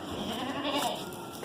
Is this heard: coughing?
no